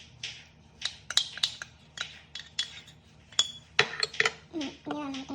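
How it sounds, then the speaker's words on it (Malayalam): A spoon mixes chocolate lava cake batter of melted butter and dark chocolate in a bowl, making rapid close clinks and scrapes in an uneven rhythm. "ഇനി നന്നായിട്ട് മിക്സ് ചെയ്ത് കൊടുക്കാം."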